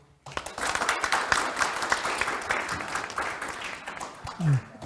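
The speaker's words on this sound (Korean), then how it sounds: "큰 박수로." Attendees at the close of the 78th Daedeok Innopolis Forum on AI and security give a round of applause, starting abruptly and sustained, with a brief voice near the end.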